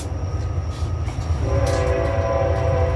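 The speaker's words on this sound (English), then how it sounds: "Sorry about the train." A train rumbles steadily nearby while a long, sustained horn blast sounds over it in the second half.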